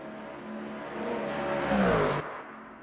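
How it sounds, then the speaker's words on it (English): Ford Mustang GT3 race car at Le Mans in a racing video game, its engine note climbing steadily in pitch as it accelerates down the straight, then cutting off abruptly, with no talk. "Confirmation from everyone that we can hear these beautiful engines. This Mustang is amazing."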